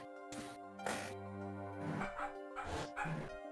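A dog barks in a video game, a few sharp close woofs and yips with a whimpering tone in quick bursts over a low musical drone.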